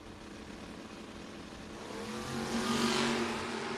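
Drag racing cars run side by side down a strip at a No-Box 660 Shootout, a broad engine roar building and swelling louder toward the end, with no talk.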